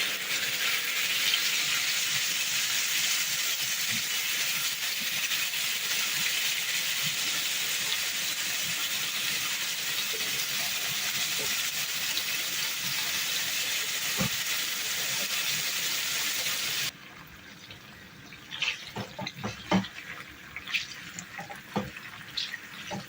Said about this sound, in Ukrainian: відправляю порізане м'ясо. Нам необхідно його підрум'янити добре. Бажано на великому вогні.